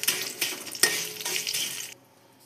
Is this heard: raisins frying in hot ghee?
yes